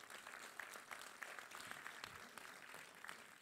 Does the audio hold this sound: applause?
yes